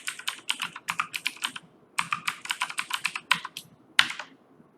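Someone types on a computer keyboard at a steady, quick pace, with close, crisp key clicks in two bursts separated by a short pause.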